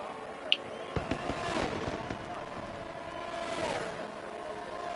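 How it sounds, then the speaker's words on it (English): Fireworks crackle and pop as a racing video game car crosses the finish line at the Bahrain circuit. Several sharp bursts sound over a steady engine and crowd bed. "We've seen the fireworks."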